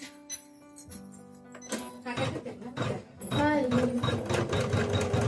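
Computerized embroidery machine starting to stitch a design, a steady mechanical whirring and rapid clatter that grows louder and busier after a quieter start, with talk heard alongside.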